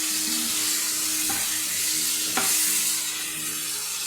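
Fried chicken pieces are stirred into a spiced masala with chilli powder in a pan for chicken chorchori. A steady sizzle runs throughout, and two sharp scraping stirs stand out near the middle.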